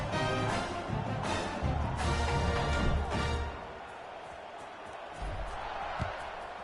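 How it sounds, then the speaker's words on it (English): A college football stadium crowd buzzes before a kickoff, with a broad roar for the first few seconds that then settles to a softer murmur, and a commentator's voice is faintly present. "this crowd is buzzing after that last score"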